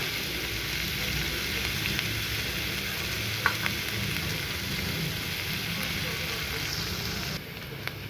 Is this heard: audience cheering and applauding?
no